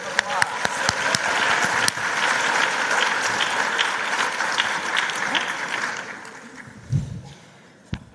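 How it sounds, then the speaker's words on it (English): An audience at the HOPE Global Forums gives panelists a big round of applause, dense clapping at steady loudness that thins and fades near the end, with a voice and a few thumps as it dies down. "Let's give them all a big round of applause."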